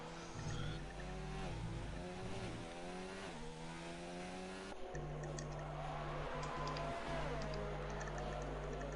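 Racing game car on soft tyres pushing through a hot lap, engine note climbing and shifting in repeated rising sweeps, steady and close, with a brief tyre squeal and no talk.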